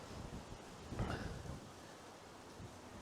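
Wind buffets the microphone in low rumbling gusts by the sea at Pagham Harbour nature reserve, with one stronger blast partway through, otherwise a steady outdoor rush.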